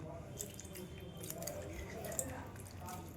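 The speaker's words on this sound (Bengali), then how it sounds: "ক্যাপসিকামগুলোকে পরিষ্কার করে আমি ধুয়ে নেব" Capsicums washed by hand in water make soft, faint wet squelches and small drips, a quiet continuous sloshing close by.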